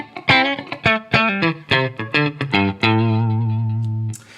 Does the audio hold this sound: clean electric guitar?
yes